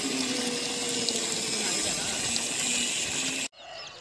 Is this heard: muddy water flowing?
yes